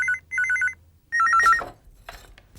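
An old-style telephone bell rings in two clear bursts of rapid trilling, loud and close, followed by a third ring that is cut off as a voice begins speaking.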